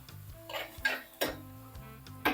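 A spoon scrapes and clinks against a pan while onions are stirred and sautéed for a squid curry, giving several sharp, irregular metallic taps over a quiet background.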